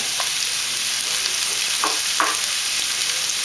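Onions and carrots sauteing in a pan, a constant bright sizzle with a few brief stirring scrapes near the middle, close and steady without talk.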